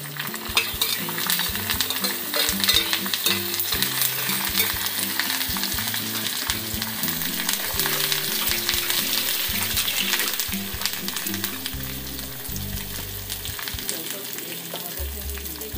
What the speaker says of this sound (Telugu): భలే చిటపటా సౌండ్ అవుతుంది కదా, తర్వాత కరివేపాకు,